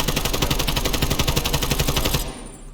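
Continuous automatic gunfire from Call of Duty, a rapid, even burst of loud shots with recoil left uncontrolled, firing steadily for over two seconds before cutting off abruptly into a quiet tail.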